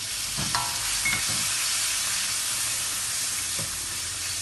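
Garlic, sugar and sauce fry in a pan with a continuous close hiss and sizzle, punctuated by a few soft stirring clinks, with no one speaking.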